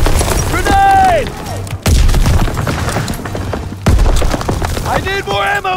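Battle din in Call of Duty WW2 with a heavy booming blast and scattered gunfire, several loud impacts and splintering crashes spaced across the scene, while shouted voices carry over the chaos.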